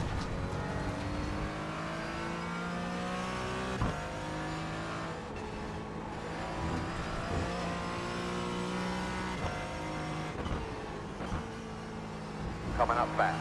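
An LMP3 prototype race car overtaking in a racing sim at Road Atlanta, its engine droning and rising over a steady mix of car engine tones, with a voice talking over it.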